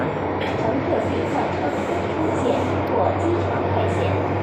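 Steady low rumble and hum inside a moving train carriage, continuous and fairly loud, with a voice talking over it.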